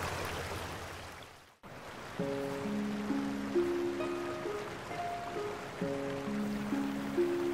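A river flowing beneath a long stone viaduct in a Welsh country park, a steady broadband rush of water heard alone, briefly dipping before resuming with faint tonal sounds over it.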